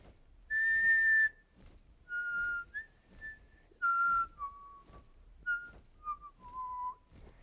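Someone whistles a slow, wavering tune alone, the steady pitched notes held for a second or so each with short gaps between, clear and fairly close.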